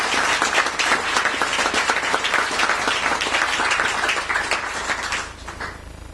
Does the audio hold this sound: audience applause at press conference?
yes